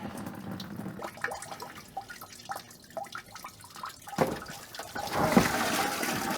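Leftover water drains from a freshly cut pipe line during building restoration, an intermittent trickle and dribble of drips and splashes, moderately close, growing a little louder and splashier toward the end.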